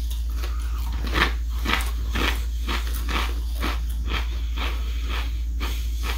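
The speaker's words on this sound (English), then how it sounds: "Nice crunch. Good nacho cheese flavor." Nacho cheese chips crunch in steady rhythmic bites, a dozen or so close, crisp chewing crunches over a constant low hum, with no talking.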